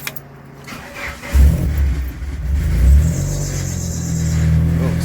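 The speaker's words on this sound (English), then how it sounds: "because I'm going to turn on the car" A 1995 Mitsubishi Eclipse engine cranks and catches, its low rumble swelling into a steady idle with a brief rev, close and loud with no talking.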